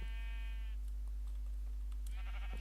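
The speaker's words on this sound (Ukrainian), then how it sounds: "стрижка овець." Sheep bleat in the Minecraft video game while being sheared: one drawn-out bleat at the start, then a quieter stretch with small clicks, and a second bleat near the end, all over a constant low hum.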